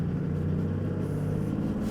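A Toyota Land Cruiser, a small heavy-duty model, running while gears are shifted, heard from inside as a steady low engine rumble and drone without clear breaks.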